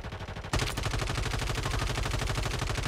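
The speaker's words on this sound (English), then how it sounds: "Oh no, I just got sniped." Call of Duty gunfire: a sudden loud shot followed by a dense, continuous rattle of rapid automatic fire, harsh and close, with no talk.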